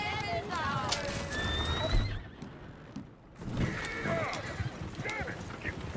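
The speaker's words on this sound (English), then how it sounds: "Oh, shit, the horses!" Horses whinny loudly several times over a rumble of hoofbeats and background commotion, with voices mixed in.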